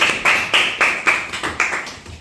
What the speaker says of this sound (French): On les applaudit encore.